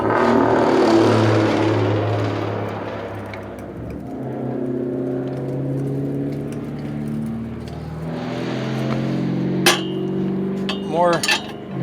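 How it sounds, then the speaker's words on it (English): Several loud cars with loud exhaust roar past one after another, engines droning and swelling, with a few sharp metallic clinks near the end. "More junk ass cars going by with loud ass exhaust."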